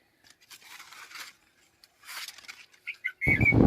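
Birds hopping and flapping among garden tree branches, with soft rustling wing bursts and leaf movement, a few short chirps, then a louder close flurry of flapping at the end.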